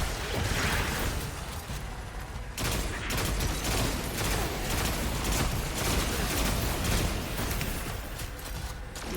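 Dense, continuous gunfire from Destiny 2 rattles on for several seconds as a steady wall of rapid shots and impacts, with one brief lull near the start.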